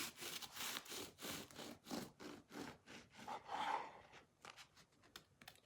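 A knife saws back and forth through a loaf of carnivore bread made with egg whites, a series of close, rhythmic rasping strokes with short pauses between them.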